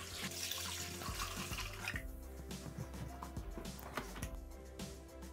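Water pours steadily into a Thermomix bowl for pasta salad, added together with salt for boiling. A continuous close splashing stream runs alone for the whole stretch.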